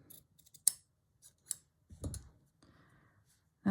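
Scissors snip through a Japanese rice bag being trimmed for craft-room storage, a few sharp close cuts spaced unevenly, with quiet handling noises between and no talking.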